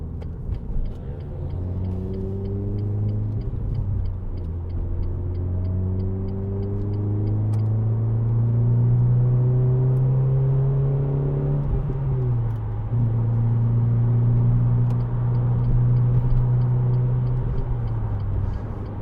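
A 2010 Renault Clio 2.0 VVT Renaultsport four-cylinder engine pulls through the gears, its drone rising in pitch repeatedly with gear changes, heard steadily from inside the car with no talking.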